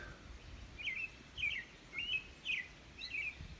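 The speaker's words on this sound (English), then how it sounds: "That's a loud bird." A cardinal sings outdoors near a pasture, five clear whistled phrases spaced evenly about half a second apart, loud and distinct over a quiet, faintly breezy background.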